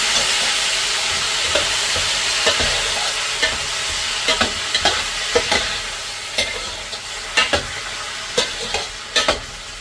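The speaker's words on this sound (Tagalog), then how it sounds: "Yung gisado na yan, lagyan natin ang toyo" Sautéed base for pansit habhab fries loudly in a pan after soy sauce goes in, a dense continuous sizzle punctuated by repeated clacks of a stirring utensil, with no talk.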